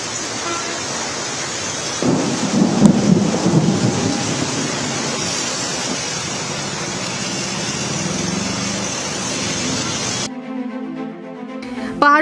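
Heavy rain pours in Dehradun while thunder rumbles loudly, a dense steady downpour with a strong rolling crack early on, ending abruptly.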